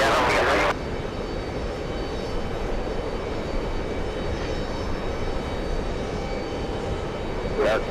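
Airplane heading for the 22 runways at JFK Airport, a steady loud engine roar filling the whole stretch, with a sharper burst at the very start and a voice briefly talking over it.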